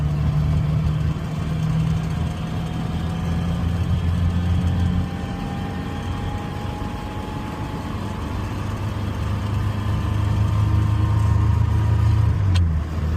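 A Morris Minor 948cc saloon's small engine revs and climbs steadily, pausing briefly for gear changes before pulling up again, heard from inside the car.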